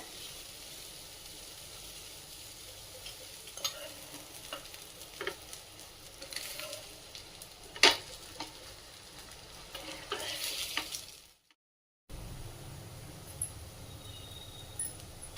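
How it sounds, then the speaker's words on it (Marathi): Leftover seasoned rice vegetable cutlets with sesame seeds frying in oil in a pan, giving a steady soft sizzle with scattered crackles and pops, briefly cutting out before resuming. "आणि हे तयार केलेले कटलेट त्यावर ठेवूया। तेल सोडूया।"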